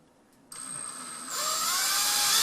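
A power drill spins up and bores through drywall into a wall stud during a kitchen range hood install, starting with a steady whine and then grinding louder as the bit bites into the wood.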